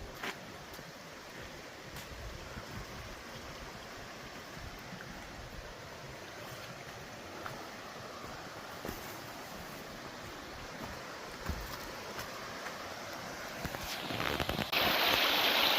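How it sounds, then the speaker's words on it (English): A swollen creek rushing through forest near Turnagain Pass on the way to Cooper Landing, Alaska, a steady broadband roar of flowing water with no voices, rising slightly louder toward the end. "the creek is just really high"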